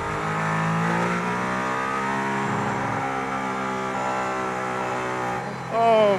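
A Mercedes-AMG race car accelerating hard on the Barcelona circuit, a loud sustained engine roar climbing through the gears from inside the car, ending in a brief sharp rev.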